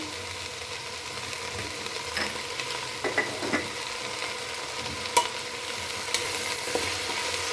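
Vegetable curry frying in a pan with salt, a constant sizzle broken by irregular scraping stirs of a spatula and a few sharp clinks against the pan, close and clear.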